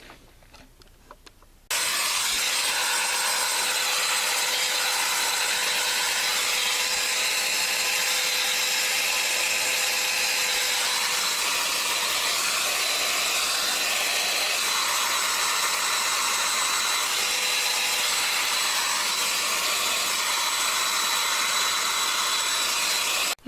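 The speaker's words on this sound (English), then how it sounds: "now I've gone through and blow dried it in hot heat" A hair dryer set to hot heat blows steadily and loudly while drying hair for volume. It starts abruptly after a short quiet moment and keeps a constant, unbroken whoosh with no speech.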